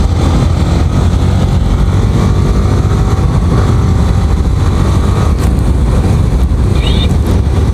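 Yamaha R15 V3 motorcycle being ridden, a loud continuous engine drone blended with heavy wind rush at close range, steady throughout with no speech.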